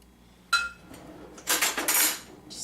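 Metal knife clinking against dishes and a baking pan while making peanut butter and chocolate cream cheese brownies, with one sharp clatter followed by a longer burst of scraping and clinking, close and fairly loud, with no voices.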